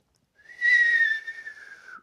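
A single person whistles one short sustained note lasting about a second and a half, close and clear, wavering slightly before it trails off, with no talk.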